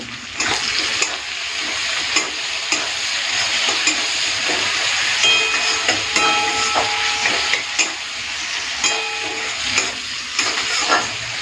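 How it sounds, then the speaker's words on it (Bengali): Chopped tomato frying with onion in a pan for a Bengali bhetki fish kalia, a loud, dense, continuous sizzle close up with regular stirring scrapes throughout. "পেঁয়াজের সাথে টমেটোটাকে দু তিন মিনিট একটুখানি ভেজে নিলাম"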